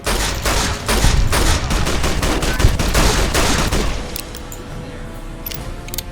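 Sustained rapid gunfire in the Fallout New Vegas video game, with dense automatic bursts and loud booms for about four seconds, then fading into sparse, quieter single shots.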